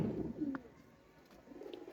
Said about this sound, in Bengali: এই যে এক পেয়ার খাকি কবুতর আমরা দেখতেছি এখানে